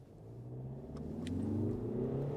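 A 2025 Skoda Kodiaq's turbocharged engine rumbles and steadily builds as the SUV accelerates, the low drone rising in pitch with a faint turbo whir, heard from inside the cabin.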